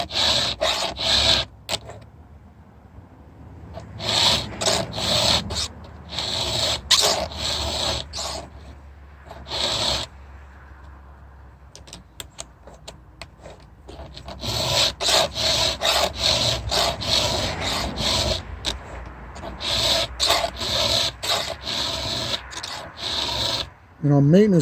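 A ripping chainsaw chain clamped in a vise is hand filed with repeated rasping strokes, loud and close, in bursts separated by short pauses, and one stretch has a quieter lull.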